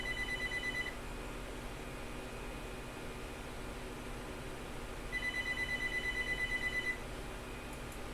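A telephone rings indoors in two bursts of repeated electronic trilling, one at the start and one near the end, set against a steady background hiss.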